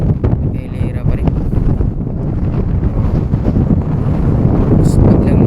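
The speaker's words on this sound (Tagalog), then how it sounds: "Tapos biglang lumakas yung hangin guys." Strong gusts buffet the microphone by Manila Bay near a reclamation site with moored yachts, a loud, constant low rumble of wind noise running the whole time.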